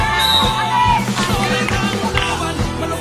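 Basketball fans yell and cheer loudly at a local court game, a constant roar of voices and whoops close by with a few ball bounces and sharp knocks underneath.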